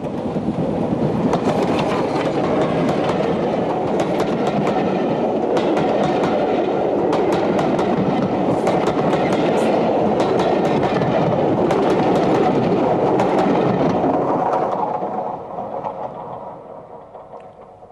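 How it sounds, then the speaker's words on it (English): LMS Black 5 steam locomotive 45428, an Armstrong Whitworth build, running past with steady loud rail rumble and clicking wheel beats, fading away over the last few seconds. "Our final Black 5 is 45428, inevitably another Armstrong Whitworth machine."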